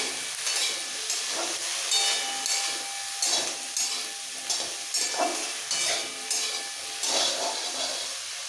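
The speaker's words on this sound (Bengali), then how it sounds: "এবার ঢ্যাঁড়সটাকেও একটু ভেজে নিতে হবে" Okra sizzles steadily in a pan, with regular stirring scrapes every second or so, close and fairly loud.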